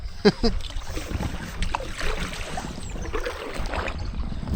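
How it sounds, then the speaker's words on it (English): A Gumotex Swing inflatable kayak is paddled against the current on the River Bure, with soft splashing paddle strokes and water sounds under wind buffeting and a knock near the start. "we've got a little bit of a headwind and we're paddling against the current"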